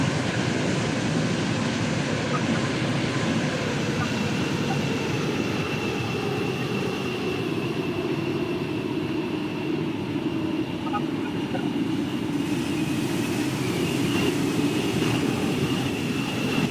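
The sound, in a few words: metro train running toward a station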